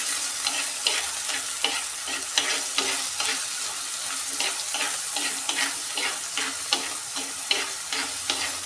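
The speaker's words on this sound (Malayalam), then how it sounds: "നന്നായിട്ടൊന്ന് വഴറ്റി കൊടുക്കുകയാണ്." Onions sautéing in a pan over medium flame for fish curry, a steady close sizzle broken by a regular rhythm of stirring scrapes.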